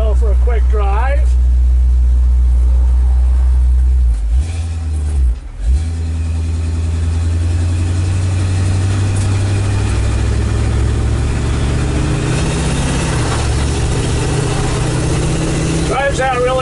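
A 1948 Ford F1 pickup resto-mod drives along a road, its engine a steady loud low rumble that dips briefly as it shifts, with a person talking over the sound.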